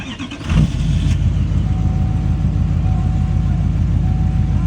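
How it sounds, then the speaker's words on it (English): A Duramax diesel pickup engine cranks briefly and fires, then settles into a steady, loud, low idle rumble close by on a farm, with a faint whine riding over the idle. "fire up the Duramax"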